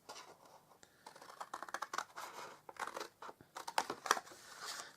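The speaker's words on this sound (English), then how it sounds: "we'll start off by cutting across and getting rid of this" Scissors cut across a scored sheet of paper or cardstock for a handmade gift box, giving quiet irregular snips and rustles that bunch into short bursts with brief pauses between them and no voice over them.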